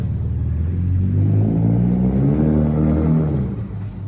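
A car revs hard in a drift, its engine a loud, steady rumbling drone with rising and falling pitch that holds for most of the moment before easing off slightly at the end; no talking.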